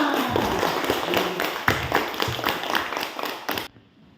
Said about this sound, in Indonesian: iya, mari kita tepuk tangan.